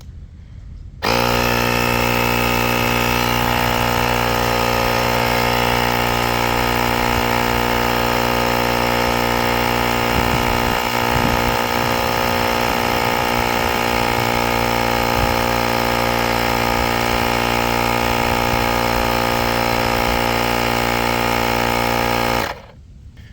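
A Lokithor JP400 jump starter and tire inflator pump switches on with a sudden start and runs as a loud, steady, buzzing motor drone for about twenty seconds, then cuts off abruptly.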